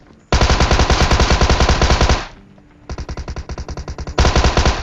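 Automatic gunfire rattles in a battle royale video game: a loud, rapid burst, a short pause, then more steady bursts of close, evenly spaced shots.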